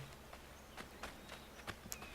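Horse hooves clopping in an uneven walking rhythm in the video game Assassin's Creed 3, moderately close, over a quiet background.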